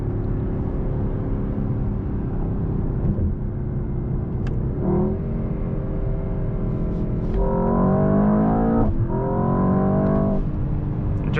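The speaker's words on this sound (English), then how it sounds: "the sound which you get with the exhaust, of course, is amazing." A 2024 Mercedes-AMG S63 sedan's V8 exhaust rumbles from inside the cabin, building in pitch as the car accelerates, with two strong surges of rising engine tone late on; no talking.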